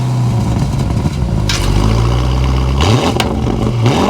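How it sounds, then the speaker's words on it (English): A Porsche Cayenne Turbo GT exhaust roars close and loud through a rising rev and then falls back in a deep burble, followed by a second, quicker blip near the end. "I have to literally show you guys the sound of this exhaust"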